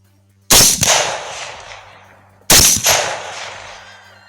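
Two loud, sharp rifle shots from a 6.5 Grendel firing 100gr Barnes TTSX bullets outdoors, about two seconds apart, each cracking sharply and then rolling off in a long echoing decay.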